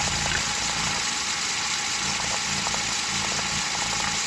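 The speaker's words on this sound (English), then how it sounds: "Yeah, there's a head gasket issue with this." A car engine with a blown head gasket idles with blow-by, a steady close rumble with a faint rattling pulse and constant hiss, no voices over it.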